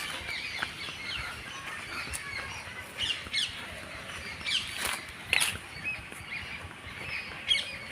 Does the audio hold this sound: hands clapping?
no